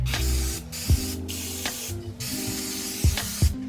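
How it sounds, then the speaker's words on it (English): Several bursts of aerosol cooking spray onto baking pans for banana bread hiss in close succession, separated by short pauses and a few light clicks and taps of pans. "Just spraying my pans."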